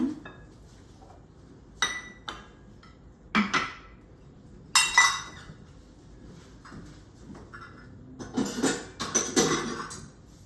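Flour is being mixed into food in a bowl, with irregular clinks, taps and scrapes of a utensil against the dish in separate bursts between quiet pauses.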